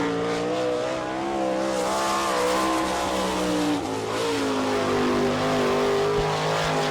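Sprint car number 6 on a qualifying lap at Attica, Ohio, its engine screaming at high revs with rising and falling pitch as it circles the dirt oval, loud and continuous.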